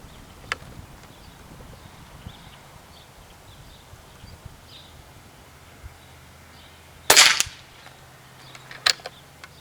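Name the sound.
Air Venturi Avenger .25 cal air rifle shooting H&N slugs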